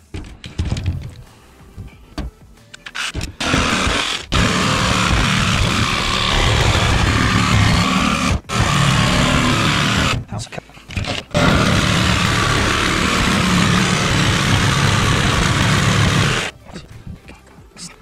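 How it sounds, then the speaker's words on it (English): A jigsaw cuts through a metal van roof with a loud, harsh buzzing rattle that runs in long sustained bursts, stopping briefly several times before resuming, close and dominant. "It's just to protect the paint while the jigsaw is running down the line."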